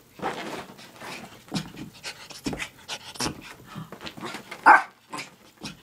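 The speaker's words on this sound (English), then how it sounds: "how hyper this dog gets" An excited, hyper dog pants in quick bursts close by, indoors on a rainy day, with a sharp yip or whimper near the end and no talking over it.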